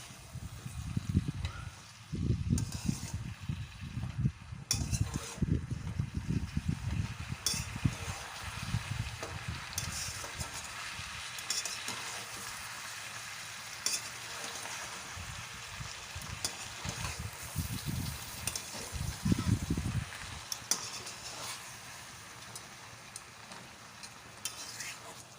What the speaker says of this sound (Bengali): এবারে ভালো করে নাড়িয়ে চাড়িয়ে নিচ্ছি।